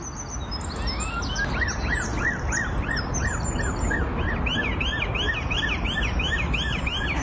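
A bird repeatedly imitates a wailing police siren, rising and falling whoops in a steady series over a noisy outdoor background.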